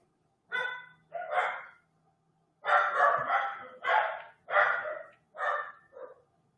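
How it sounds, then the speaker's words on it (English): Dogs bark in several bursts, loud and fairly close, with short pauses between barks and no talking. "the dogs are going again"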